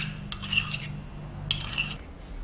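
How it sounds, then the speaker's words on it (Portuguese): A metal utensil stirs egg yolks in a dish, two sharp clinks against the rim each followed by a brief scraping swirl, close and moderately quiet. "eu vou pôr a gema e vou mexer aqui para misturar bem"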